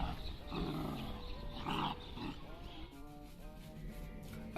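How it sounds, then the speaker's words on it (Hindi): A black puppy makes faint whining and growling noises at low volume, with a few rising yelps and whimpers toward the end. "बड़ा खतरनाक पिल्ला है ये।"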